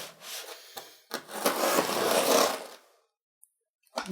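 A 17-in-one multi-tool knife slices open a parcel holding books, giving a scratchy rasping cut that swells for a couple of seconds, then stops, with a couple of short scrapes before and after.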